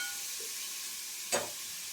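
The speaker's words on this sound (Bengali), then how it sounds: "এদিকে আমার বেগুন ভাজা হয়ে যাচ্ছে" Eggplant frying in hot oil gives a steady, soft sizzling hiss, broken once by a brief clatter of a stirring utensil.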